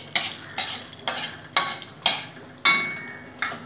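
Dried red chilli and black cumin seeds frying in hot oil, with about seven distinct spatula strokes clinking against the pan over a soft sizzle, near and fairly loud.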